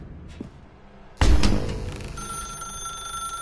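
A telephone in a video game starts ringing abruptly after a quiet stretch, a loud bright electronic ring with a lingering tone.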